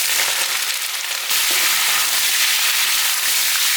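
Pork ribs hit hot oil and caramelized sugar in an iron wok, giving a loud, steady crackling sizzle that flares up sharply partway through and keeps hissing without pause.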